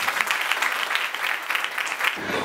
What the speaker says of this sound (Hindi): ताली बजाएंगे प्रभु के लिए